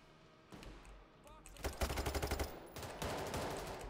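Rapid bursts of automatic gunfire in the heist shooter Payday 3, a dense rattling volley in the middle of the clip over a steady background of game noise.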